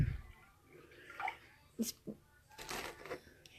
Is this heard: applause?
no